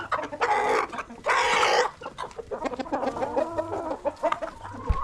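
Roosters cluck close by in loud, rapid bursts with a harsh squawk near the start, followed by a busier run of chattering clucks and calls.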